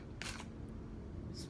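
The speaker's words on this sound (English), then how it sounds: "it's really beneficial to have a spray bottle right there so that you can" Two brief hissing spritzes of water from a handheld spray bottle misted onto natural hair, the first lasting a few tenths of a second and a shorter one at the end, over steady low room noise.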